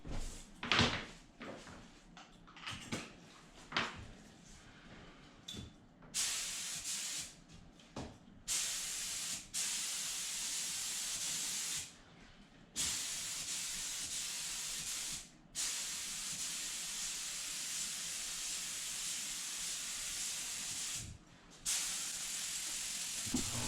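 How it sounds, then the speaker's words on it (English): A spray gun hisses lacquer onto cabinet interiors and face frames in long continuous bursts, broken by brief pauses and a few knocks and clatters of cabinet doors between passes. "I start by spraying the interior of the cabinets first, and then move on to the face frames"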